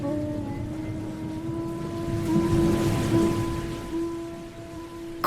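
Steady rain falling outside, a continuous broadband patter that swells slightly in the middle, with a faint sustained tonal hum running underneath throughout.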